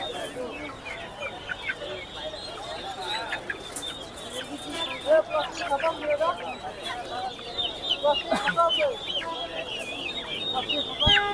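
Brahma chickens clucking and squawking continuously at a busy poultry market in Tongi, Bangladesh, with people talking nearby under the steady bird chatter.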